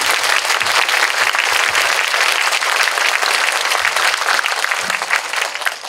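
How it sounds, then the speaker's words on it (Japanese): Loud, sustained applause from a large cinema audience at a film's opening-day stage greeting, dense clapping that carries on steadily throughout. "本当に大きな拍手がこうやって届いたわけですけれども"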